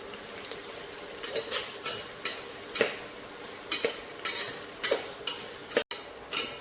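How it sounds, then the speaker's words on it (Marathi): Onions sauté in hot oil for veg masala rice while a spatula stirs them in regular strokes, each stroke bringing a brief burst of sizzle and scraping over a soft frying hiss, close, with no talking. "कांदा आपल्याला लाल कलर येईपर्यंत व्यवस्थित असं परतून घ्यायचा आहे."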